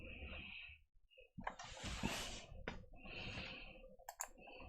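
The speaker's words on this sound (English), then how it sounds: "Please let me click a few more times so I can stop clicking." Computer mouse clicking during a live virtualization setup session, a scatter of small sharp clicks among soft broadband desk noise, close and fairly quiet, with no talking.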